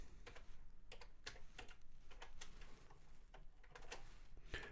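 Rapid typing on a computer keyboard while save states are set up for Castlevania II: Simon's Quest, with steady close clicks in irregular bursts and no talking.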